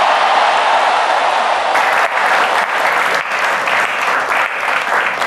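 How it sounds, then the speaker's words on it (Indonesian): Audience at a Golkar party event bursts into steady, dense applause right after Prabowo's statement, loud and sustained for several seconds with no talk over it. "pernyataan Pak Prabowo langsung disambut tepuk tangan, setuju begitu kata audiens yang ada di acara Golkar kemarin"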